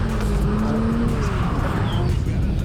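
Toyota race car at a TOYOTA GAZOO Racing Australia scholarship evaluation day, engine held under steady throttle through a slide, a loud continuous close drone with a faint tire squeal.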